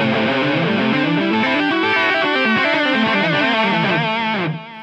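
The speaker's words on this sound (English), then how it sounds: "Here's the sound without any ducking at all. You'll hear how powerful this delay echo is." A distorted electric guitar runs through a TC Electronic 2290 delay with no ducking, sustained notes stacking into dense, loud echo repeats before cutting off near the end.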